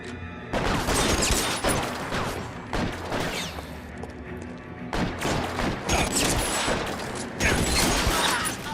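Rapid bursts of gunfire from the L.A. Noire video game, a dense fusillade of overlapping shots that fills the clip loudly with brief gaps, and a voice speaking over parts of it.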